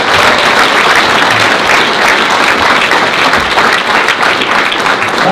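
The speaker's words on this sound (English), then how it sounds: "So a big applause to Jacob Nordangard." Loud, close applause from a lecture audience welcoming a speaker, a thick, continuous roar of many hands clapping at once, steady and unbroken from start to finish.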